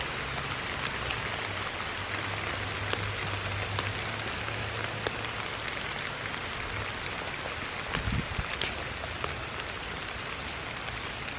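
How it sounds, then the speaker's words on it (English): A heavy outdoor downpour makes a dense, steady hiss, with sharper individual drops ticking on nearby surfaces throughout and a faint low rumble early on. No voices are heard. "The downpour has somewhat stopped."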